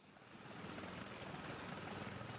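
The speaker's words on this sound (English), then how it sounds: "The AH-1 Viper is a U.S. Army multi-purpose attack helicopter." AH-1 Viper attack helicopter of the U.S. Army flying, a steady broadband rotor and engine roar that stays loud and even throughout with no voices.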